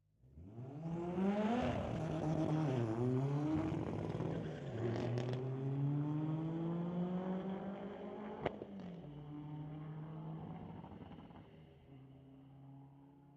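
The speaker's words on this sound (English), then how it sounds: "So Trevin Spatley bringing up the 2023 Hyundai Elantra, going up against Kevin Kaiser in the Volkswagen Beetle" A drag race launch between a 2023 Hyundai Elantra and a Volkswagen Beetle with a Honda K20 turbo engine, engines roaring and shifting through gears as the cars pull away down the strip, loud and continuous and fading slightly toward the end.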